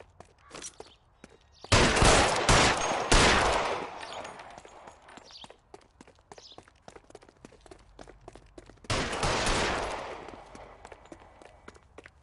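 Gunshots in the video game L.A. Noire come as two loud bursts of rapid fire, the first lasting about two seconds and the second about a second and a half, with quieter footsteps and ticking in between.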